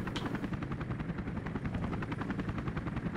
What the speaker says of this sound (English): now we're up to the helicopter fight, which is where we need to be